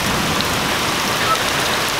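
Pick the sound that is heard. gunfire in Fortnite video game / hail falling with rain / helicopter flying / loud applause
hail falling with rain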